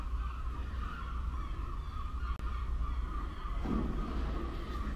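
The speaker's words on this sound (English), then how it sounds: "And there's so many birds in here. That's the sound you hear." Many birds inside an abandoned lighthouse inn on the Rhode Island coast, producing a dense, continuous chorus of honking calls that echoes in the enclosed space, steady at mid distance with no talk.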